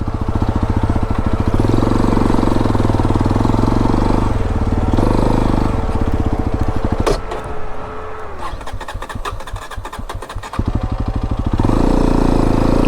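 A Honda Dio scooter on an off-road hill track gives a loud, close, steady putter that drops out midway amid clicking and rattling, then picks back up to a strong idle.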